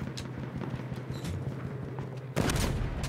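A field gun fires in Battlefield 1 with one heavy, loud boom near the end, preceded by a steady rumble of distant battlefield noise.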